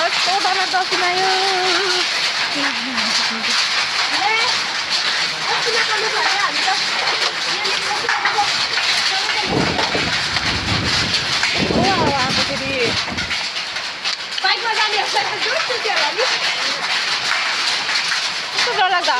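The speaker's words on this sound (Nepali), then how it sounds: "यस्तो डरलाग्दो असिना आयो।" Hail pounds down in a strong wind near a stream outside Pokhari, a dense steady roar with rattling impacts that never lets up and a brief lower rumble midway.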